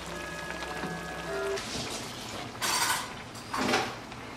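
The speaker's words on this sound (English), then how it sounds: "So now I'll take this pot and drain all the excess grease off." Grease drains from a pot of browned ground beef in bursts of pouring, splashing liquid, with metallic clinks of the pot and a faint whine early on.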